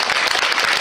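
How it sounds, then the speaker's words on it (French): Audience applause at a regional dance competition in Brittany, a dense, loud burst of many hands clapping at once that fills the space throughout. "Applaudissements, public, on vous entend?"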